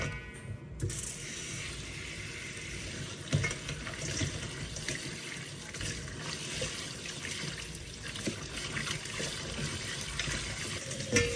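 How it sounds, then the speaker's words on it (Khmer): Prawns are rinsed under a running kitchen tap, a steady close rush of water with small splashes and trickles that continues throughout without pause. "ខ្ញុំយកបង្កងទាំងអស់ហ្នឹងមកលាងទឹកឲ្យបានស្អាតតាមក្រោយទៀត"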